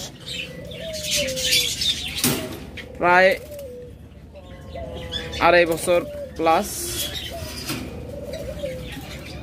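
A caged female dove, offered among pet birds for sale, gives soft low coos in short phrases while someone talks steadily over it, with a few brief chirps nearby.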